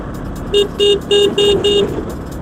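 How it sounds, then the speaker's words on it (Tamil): A Bajaj Pulsar N160 motorcycle horn beeps five times in quick, even succession, loud and close, over a low idling engine. "ஹார்ன் சவுண்டுமே நல்ல"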